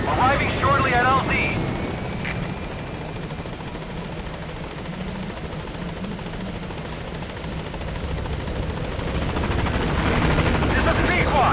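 The Pequod helicopter in Metal Gear Solid V arrives at a landing zone, its rotor and engine roar filling the scene in a loud, steady drone that swells toward the end.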